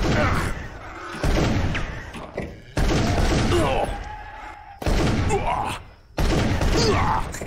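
Gunfire in the Darkenstein 3D video game, loud bursts of shots in repeated blocks separated by short pauses, with a voice speaking between them.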